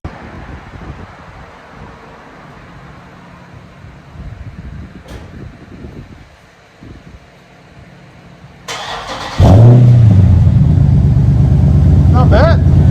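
Dodge Charger 392 with a 6.4L V8 and muffler-deleted exhaust, starting up and revving loud and close after a quieter stretch of idle rumble and shuffling, then holding a heavy, sustained roar.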